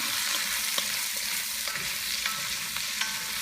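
Onions and garlic sautéing in a soup pot with turnips, a bright steady sizzle broken by several scraping stirs of a spoon, close up and unbroken by talk.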